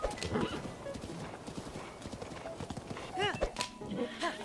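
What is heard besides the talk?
horse hooves clip-clopping and whinnying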